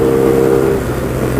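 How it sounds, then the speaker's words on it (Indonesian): Loud exhaust from a BMW R nineT motorcycle, a deep, steady droning rumble with strong low harmonics, close up and continuous with some wind. "Kencang banget suara knalpot gue gak bisa denger."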